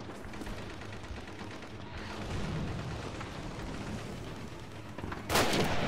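Machine gun fire in a Call of Duty campaign game, a dense continuous rumble of distant bursts and booms with a louder sharp burst near the end, with no talking.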